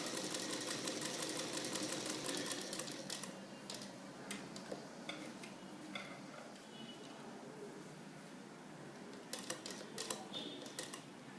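A sewing machine runs in quick, faint, steady ticking stitches while sewing a continuous opening, slowing and thinning midway before a few sharper clicks near the end.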